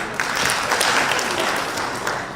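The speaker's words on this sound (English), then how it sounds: "Please clap for him." Audience in a hall at an avocado industry awards event clapping steadily throughout, a dense even patter of many hands with no talk over it.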